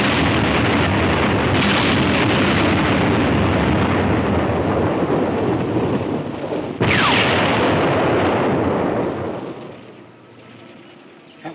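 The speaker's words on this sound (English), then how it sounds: "From the sound of the explosions, they missed." Film sound effect of bombs dropped near a military transport: heavy, booming explosions roll and rumble continuously, with a sharp new blast midway, then fade into a quieter tail.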